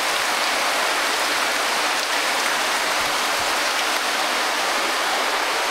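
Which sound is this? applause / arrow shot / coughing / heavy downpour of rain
heavy downpour of rain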